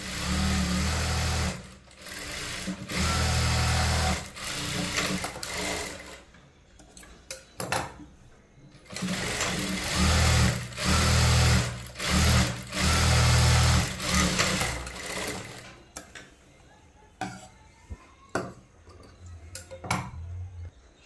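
Sewing machine stitching a blouse seam in several runs of steady whirring, with pauses, clicks and handling noises between runs, close and fairly loud with no voices.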